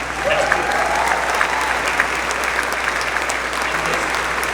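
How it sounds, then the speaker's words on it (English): Sustained audience applause fills a hall at a NASA Artemis II crew announcement, a dense, steady wash of many clapping hands that holds at a fairly even loudness throughout, with no voices rising above it. "Yeah, you can clap for that."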